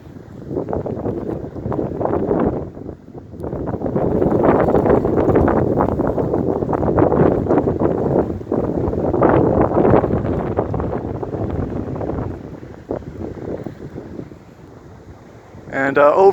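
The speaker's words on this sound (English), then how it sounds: "These gusts of wind are so strong it's blowing the tops of the trees back and forth." Strong gusty wind roars and buffets the microphone in surging waves, tossing treetops among avocado trees, easing briefly between gusts.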